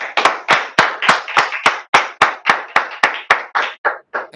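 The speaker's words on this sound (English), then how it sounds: "Please give a big round of applause for Sanjeev and Sambit for this excellent presentation." A single person clapping slowly and evenly in an online product showcase session, about fourteen crisp, close claps in a steady rhythm that slightly loosens and thins toward the end.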